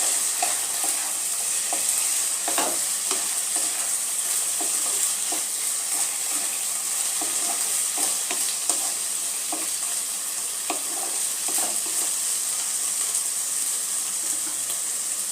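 Garam masala stirred into bottle gourd and prawns frying in a pan, a loud, steady close sizzle with intermittent scraping strokes of the spoon throughout, no voices.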